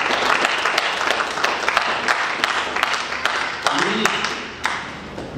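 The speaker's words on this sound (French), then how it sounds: "Est-ce qu'on peut plus applaudir la Reine et le..." A small crowd claps at a civil wedding ceremony in Brazzaville for the newlyweds, sustained applause with sharp individual claps throughout and a voice briefly heard partway.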